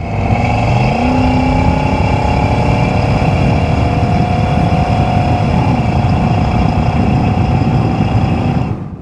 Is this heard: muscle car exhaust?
yes